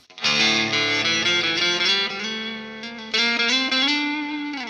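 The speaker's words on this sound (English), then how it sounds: "I've prepared a guitar track here, which is linked to the delay and to the plate reverb, so the guitar sounds like that." Electric guitar run through delay and plate reverb plays two sustained, distorted chords, each ringing out and trailing off into a lush echoing wash.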